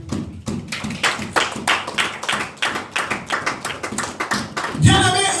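A church congregation clapping together in steady rhythm to acclaim the king: a continuous run of sharp, evenly spaced claps that fills the room, ending with a brief higher tone.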